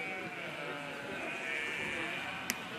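Sheep bleat amid the dense, continuous crowd murmur of a livestock market in Nouakchott before Eid al-Adha, with overlapping animal calls and people talking throughout and a brief sharp knock near the end.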